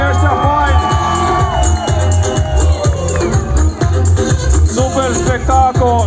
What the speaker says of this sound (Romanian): 3, 2, 1, aplauze pentru oamenii ăștia faini